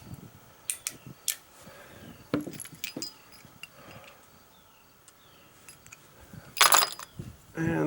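Spent casings clatter and tinkle as they are knocked out of a Standard Mfg. single-action revolver's chambers at a range, several light metallic clinks and jangles spread out, with a louder rattle near the end.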